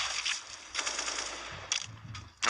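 Bursts of rapid automatic gunfire from the video game Counter-Strike: Global Offensive during a live match, with several short volleys separated by brief pauses and no speech.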